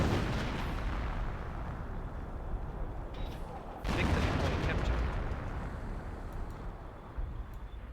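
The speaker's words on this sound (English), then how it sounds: "We got howitzers trying to finish off this casualty recovery bunker." Howitzer artillery fire in Company of Heroes, a World War II strategy game, rumbling as a dense, continuous barrage with a heavier blast near the middle, loud and close with no talk.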